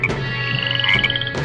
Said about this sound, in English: This is known as a corroboree frog.